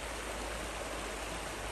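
Tap water streams steadily into a small glass, making a continuous broadband rushing and splashing sound. It is close and even throughout, with no talk.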